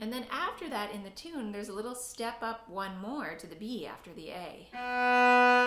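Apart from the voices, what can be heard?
No distinct noise like a dog, phone or traffic.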